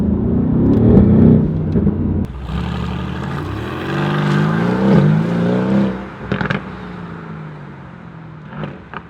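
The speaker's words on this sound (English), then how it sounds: "Listen to the downshift." Mercedes-AMG GT R sports car engine dropping through gears, a loud throaty rev falling and rising in pitch with blips, near and alone, tapering off toward the end.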